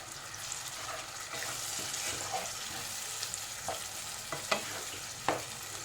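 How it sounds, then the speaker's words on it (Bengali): Spice paste for chicken khichdi sautéing in a pan with green chillies and a splash of water, a steady soft sizzle with a few scraping stir clicks, close and moderately quiet. "3 থেকে 4 মিনিট আমি এভাবে কষিয়ে নেব মশলাটাকে"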